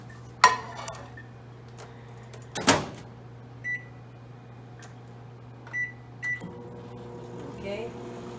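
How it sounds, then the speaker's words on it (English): A microwave oven cooking bacon hums steadily while dishes clink, a door clunks and a few short beeps sound, with kitchen clatter around it. "we're gonna do this in the microwave for 50 seconds."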